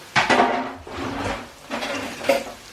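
Metal spoon clattering and scraping in a pan while rump steak cooks, a few uneven knocks and stirring scrapes at close range with no talk.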